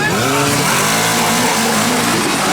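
Off-road winch truck launching at an off road trophy race, a loud revving engine climbing in pitch, close and continuous.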